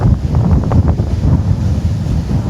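Waves wash and wind buffets a sailboat on open water off South Caicos, a loud, close, rumbling roar with gusty microphone wind noise and no talk.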